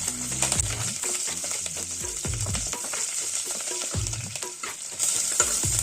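Whole spices such as bay leaf, cinnamon, cardamom and cloves, with curry leaves and green chillies, sizzle and crackle steadily in hot oil while a spoon stirs and scrapes the pan in repeated strokes, with no talking.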